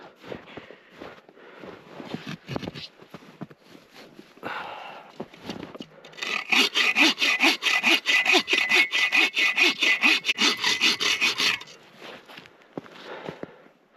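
A hand saw cuts through dead standing wood at a winter camp, a fast rhythmic run of rasping strokes, near and loud, after scattered crunching footsteps and handling noises.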